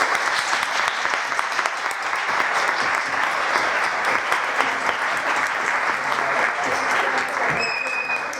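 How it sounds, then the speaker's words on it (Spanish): Loud, steady applause from an audience at Lit Con Madrid 2019, a literary convention panel, with dense clapping throughout and a few faint voices and cheers mixed in. "Pido un fuerte aplauso para ellas."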